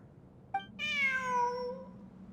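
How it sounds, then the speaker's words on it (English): A cat in the video game Genshin Impact gives a short chirp followed by one clear, drawn-out meow that falls in pitch, close and alone over faint background hum. "Look, a cat."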